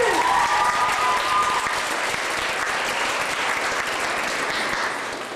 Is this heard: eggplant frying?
no